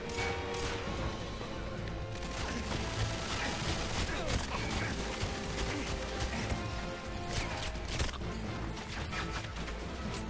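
Dense, continuous video game gunfire: overlapping bursts and shots crowd a loud, busy mix throughout, with crashes and impacts mixed in.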